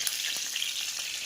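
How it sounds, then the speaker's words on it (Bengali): Mustard greens frying in a pan, a bright close sizzle with crackling hiss holding steady throughout, light stirring pops here and there. "এবারে শাকটা ভাজা করবো, সর্ষের শাক।"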